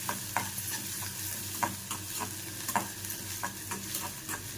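Garlic tempering sizzling in hot oil in a pan while cooking okra sabzi, a steady close crackle and hiss broken by intermittent stirring scrapes, with no talking.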